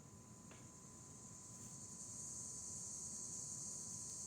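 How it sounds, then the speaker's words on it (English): Loud crickets chirp outdoors close by, making a continuous high-pitched trill that holds steady and grows slightly stronger over a few seconds. No one speaks. "there are some very loud crickets right where I'm at"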